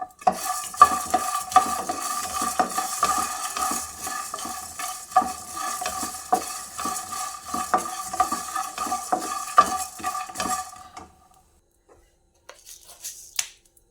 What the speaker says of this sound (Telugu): వేయించుకోవాలి పల్లీలు ఇట్లా కాస్త ఫ్రై అయినాక